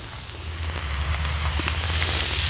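Sausage frying on a Silverfire Scout camping stove, with a steady close sizzle and faint crackle, and a low hum of the burning stove underneath.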